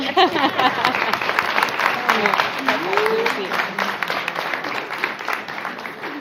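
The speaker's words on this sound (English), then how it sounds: "let's give class 998 one more round of applause, please" An audience claps steadily through a guide dog school graduation ceremony, a dense, continuous wash of applause while a voice speaks over it.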